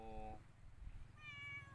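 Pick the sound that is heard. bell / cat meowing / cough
cat meowing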